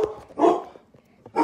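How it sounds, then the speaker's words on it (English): A dog barks indoors in a few sharp, loud bursts, two close together and then another after a pause, with faint room noise in between and no talk. "That's my dog."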